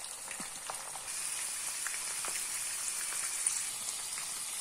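Longaniza sausages, a lean kind, sizzle steadily in a frying pan, a continuous bright crackle with scattered pops throughout and no talking.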